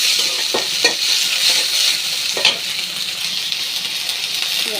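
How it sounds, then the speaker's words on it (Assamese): Green peas fry in a pan with a steady, bright sizzle while a spoon stirs them, scraping the pan in a few short, distinct strokes; no one speaks. "প্ৰথমতে অলপ মটৰ ভাজি ল'ম মই।"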